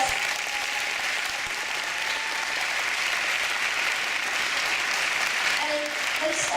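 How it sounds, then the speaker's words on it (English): An audience at a Women's Day university event applauds steadily for several seconds, a dense, even wash of clapping with faint voices mixed in. "Let's all give her a big round of applause."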